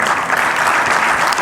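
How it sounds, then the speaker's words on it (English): Audience at a business forum gives a round of applause for Zimbabwe's president Emmerson Mnangagwa, dense steady clapping filling the short moment at full strength. "Okay, he can get his round of applause now,"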